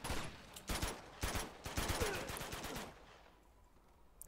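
Rapid automatic gunfire bursts from the Uncharted 2 video game, loud and close, several volleys over a few seconds before trailing off into quieter rumble.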